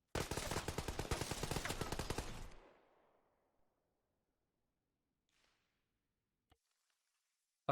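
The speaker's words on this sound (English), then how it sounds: "Okay, so I heard the shot, but I don't know where it came from." Rapid automatic gunfire in the ARMA 3 video game on the Tanoa map: a loud, dense burst of shots for about two and a half seconds, then a fading echo, near silence and a couple of faint clicks.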